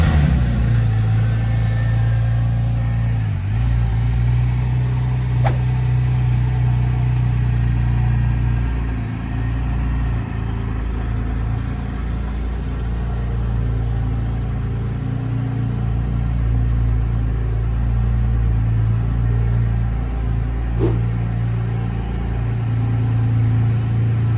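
Porsche twin-turbocharged 3.6-liter Mezger flat-six with a 6-speed manual, idling at a steady low rumble with slight shifts in pitch, close and loud, no voices present.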